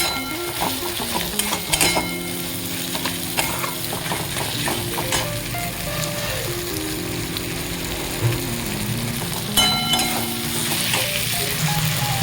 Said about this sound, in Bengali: নারকেলটা একদম ভালোভাবে ভাজা করতে হবে, যাতে কাঁচা গন্ধটা একদম চলে যায়।